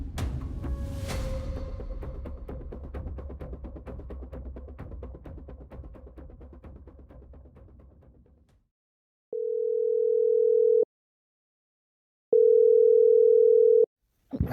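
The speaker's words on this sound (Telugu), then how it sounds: "సత్యగడి ఫోన్ చేస్తాను." Telephone call being placed: a steady dial tone gives way to two long, loud, even ringback tones separated by silence, with no talk over them.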